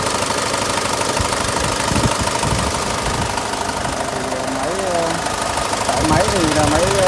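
Old 2006 diesel công nông utility vehicle, a construction-site truck, idling with a steady knocking engine rumble close by, while someone talks over it throughout.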